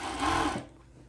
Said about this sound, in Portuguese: a gente vai continuar aqui no overlock. Aí aqui eu já posso fechar as laterais